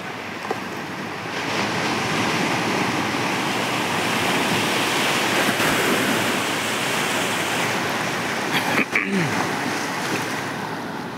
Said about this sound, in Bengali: ঝড় নাই, বৃষ্টি নাই, কোনো বাতাস নাই, ঢেউয়ের গতি